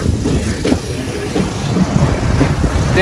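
A train pulling away from a large, old junction station bound for Rajbari, with a steady low rumble and rolling rail noise at moderate loudness, plus some wind buffeting on the microphone.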